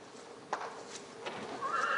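A horse neighs and whinnies during an equestrian show, with hoof clip-clop, a sharp call midway and a longer whinny toward the end, fairly faint against a quiet background.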